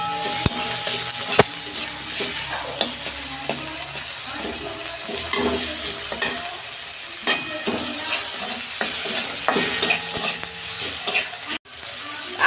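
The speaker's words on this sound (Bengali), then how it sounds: "দিয়ে আমি এটা ভালো করে কষাবো।" Tomato, chili, salt and ginger-garlic paste sizzle and fry in a pan alongside eggplant while a spoon stirs and scrapes, a steady close crackle with frequent knocks.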